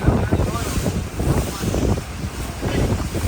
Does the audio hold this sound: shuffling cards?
no